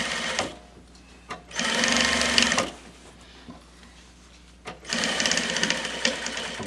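A sewing machine stitching welting onto an upholstered club chair seat runs in two steady bursts split by a quiet pause for turning the fabric, heard up close with no talk.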